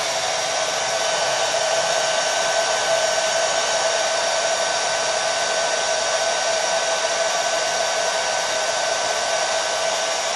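A hair dryer fitted with a diffuser, drying curly hair, blows as a loud, steady whooshing drone with a constant motor hum, close and unbroken for the whole stretch, with no voice.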